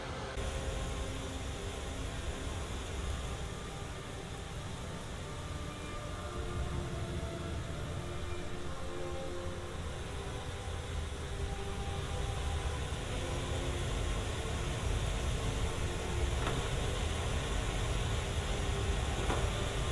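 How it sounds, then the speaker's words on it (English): A waterfall in the video game Skyrim, heard in binaural audio, makes a constant wide hiss much like white noise, steady and unbroken for twenty seconds with slight shifts in character. "So this waterfall is one of my favorites to use. It comes off as just white noise"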